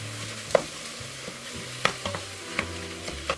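A pound of ground beef with onions cooks in a pot for black bean chili, a soft sizzle under a series of sharp scraping and knocking hits as a tool breaks up the meat, spaced irregularly and close by.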